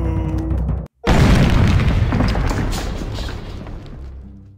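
A loud explosion in the video game Lucky Tower Ultimate: a brief silence, then a heavy boom that bursts in and rumbles on with crashing debris, slowly fading over several seconds.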